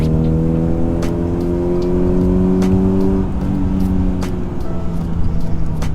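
An Acura TSX with a 3-inch single cat-back exhaust and the catalytic converter removed revs up in a rising, loud, close drone. It peaks near the middle, then falls back with faint clicks and hiss.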